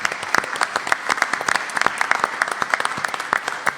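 Audience applause fills an auditorium at a book-launch event for a play, dense rapid clapping from many hands sustained throughout at steady loudness, with no talk over it.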